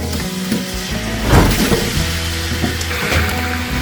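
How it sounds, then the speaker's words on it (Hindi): Five kilos of chicken dropped into 700 ml of hot oil, a loud close burst of sizzling and splatter that swells then settles into a steady crackling fry with clatter from the pieces. "तो 700 ml मैंने ऑयल डाल दिया है इसमें, और अब इसमें जाएगा 5 किलो चिकन।"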